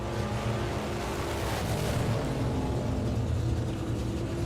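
A big block Chevy drag racing car engine at a hot rod drag strip, a loud continuous broadband roar with steady low rumble throughout, no speech.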